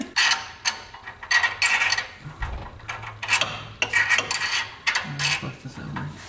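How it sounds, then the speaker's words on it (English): Small hand ratchet wrench being worked on an AE86 car, with close, bright clicking and metallic scraping in uneven bursts, a short lower knock partway through, no talking. "This is the perfect little ratchet for this."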